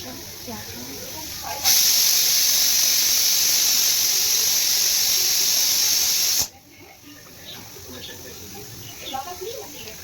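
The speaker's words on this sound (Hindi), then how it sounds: "इधर मेरी कुकर में सीटी आ रही है, दाल बन रही है।" Pressure cooker whistling on the stove while dal cooks, a loud steady high hiss bursting in suddenly and holding for about five seconds before cutting off, with faint kitchen clatter around it.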